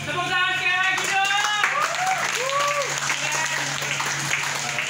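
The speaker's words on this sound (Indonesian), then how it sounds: "Tepuk tangan sekali lagi dong." Audience applause at a Balinese arts night fills the space, steady clapping running throughout while a voice and some melodic sounds rise over it in the foreground.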